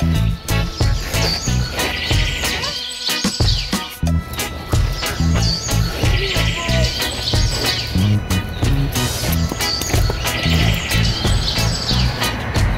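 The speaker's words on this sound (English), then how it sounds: "Oh, I see a blue bird!" Birds chirp repeatedly in a coastal grove at Pismo Beach, California, high tweeting phrases recurring over a dense, loud background of rustling and other noise.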